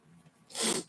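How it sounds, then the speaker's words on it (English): A single close sneeze, with a soft intake of breath followed by a sudden sharp burst of breath, quiet overall and with no talking. "Try not to sneeze again."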